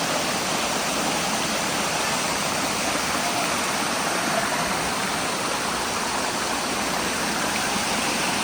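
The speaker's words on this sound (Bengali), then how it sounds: "ঝর্ণার পানির শব্দ।" Kanching Waterfall in Malaysia pours down a hillside in a loud, dense, unbroken roar of rushing water, steady from start to finish with no voices.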